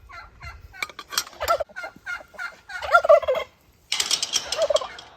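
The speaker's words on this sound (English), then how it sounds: "There's our Tom turkey." A tom turkey gobbles in repeated rattling bursts on a homestead, with clucking fowl nearby between the calls.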